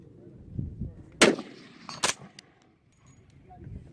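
An integrally suppressed D3-10SD 10mm carbine fires two 200 grain flat-nose full metal jacket rounds, each a sharp, muffled crack less than a second apart, with quiet handling noise and faint talk around them.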